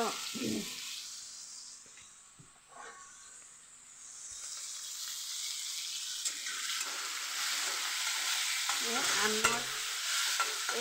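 Salted mango pieces for jelly simmer and bubble in a pan, giving a soft, crackling sizzle with occasional stirring scrapes that grows slightly busier toward the end.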